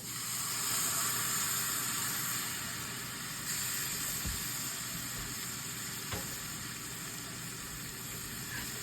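A duck egg fries on a hot cast iron pan, giving a steady close hiss and sizzle that runs without a break, with a couple of faint scrapes or taps partway through.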